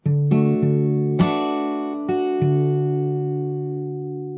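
A short fingerpicked passage on acoustic guitar: a few plucked chords and bass notes that ring out and slowly decay, played alone and up close.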